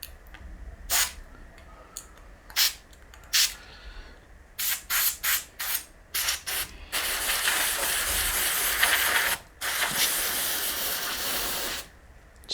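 Cleaner sprayed through a nozzle onto the sockets of a TRS-80 Model 100 circuit board: close, loud hissing bursts, first short and spaced, then a long sustained spray with a brief break.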